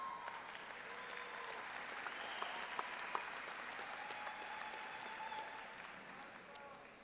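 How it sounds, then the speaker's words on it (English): A graduation audience in the stands at East Brunswick High School gives a round of applause, a steady wash of distant clapping with sharper individual claps and faint crowd voices mixed in. "They earn a round of applause"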